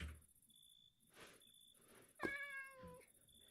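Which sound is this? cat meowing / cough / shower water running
cat meowing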